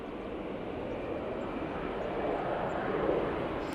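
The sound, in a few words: EasyJet airliner taking off at Manchester Airport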